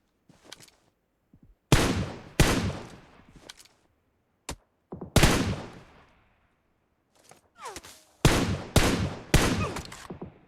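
Loud gunfire from PUBG Mobile crackles in several sharp bursts and single shots, spaced irregularly with short quiet gaps between volleys.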